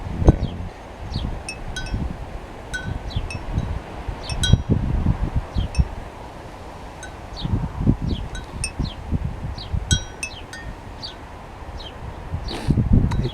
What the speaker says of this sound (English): It's a moderate wind, about 21 kilometers an hour.